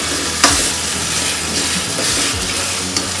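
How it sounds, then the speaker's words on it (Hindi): A spoon stirs mashed boiled vegetables for pav bhaji, producing steady scraping and squelching over a soft cooking sizzle, fairly loud and close. "अब हम इसको अच्छे से हिलाकर"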